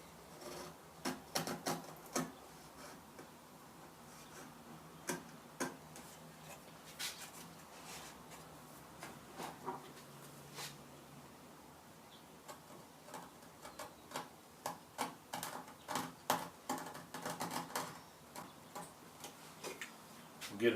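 A wood chisel pares down the end of a mitered rail-and-stile joint in a quiet shop, giving a string of short, crisp scraping ticks and taps that come in uneven bursts, denser toward the end.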